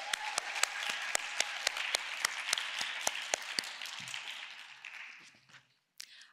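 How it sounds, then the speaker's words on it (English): An audience at a university talk event gives the speaker another round of applause: crisp, close claps ring out over a dense patter that holds steady, then thins and fades to near silence, with a couple of stray claps at the end. "Let's give him another round of applause."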